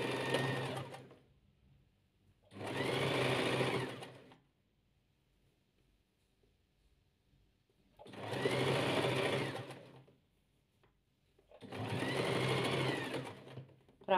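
Sewing machine stitching patchwork pieces in three separate steady runs of a few seconds each with quiet gaps between, close and clear, with no voices.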